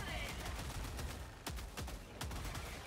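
Adjudicator rifle firing in the shooter game Helldivers 2, a few spaced, punchy shots over constant battle noise.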